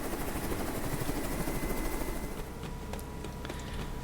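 Aircraft landing in the Carrier Command 2 video game: a steady loud rotor-like engine drone that eases slightly after two seconds, with a few faint clicks over it and no speech.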